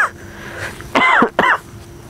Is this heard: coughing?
yes